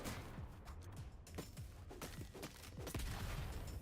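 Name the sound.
minigun firing in video game Bullet League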